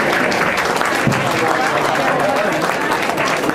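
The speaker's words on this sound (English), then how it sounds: "And let's give a round of applause." A dense, steady round of applause fills a room at the close of a city mayoral debate, a large audience clapping continuously and fairly loud, with a faint murmur of voices underneath.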